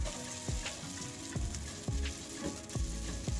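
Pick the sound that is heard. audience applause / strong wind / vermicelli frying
vermicelli frying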